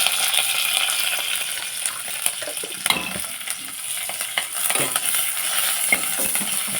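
A pan sizzles with frying oil and turmeric, a steady crackle broken by scattered clinks and scraping stirs of a utensil against metal, close up with no voices.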